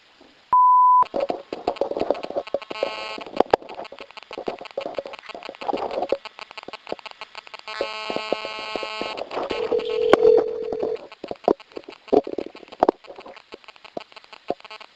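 A phone call's ringing tone sounds from a played-back recording: a short pure beep followed by repeated buzzy, tonal ringing bursts and clicks over a thin, scratchy background.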